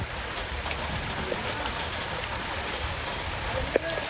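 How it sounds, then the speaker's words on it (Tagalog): Steady rain falls on a farm house, a constant close hiss with one small sharp knock near the end. "Ayan, umuulan."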